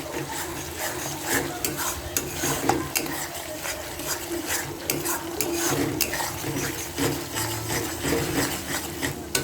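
Paneer fries in oil in a pan for a milk paneer dish, a steady sizzling hiss broken by scraping and clinking as it is stirred.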